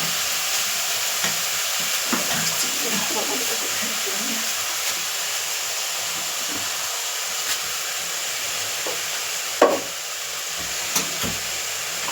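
Spices with nigella seeds and salt fry in oil in a pan with a steady close sizzle and hiss. Light stirring clicks run through it, with one sharper knock near the end and no talking.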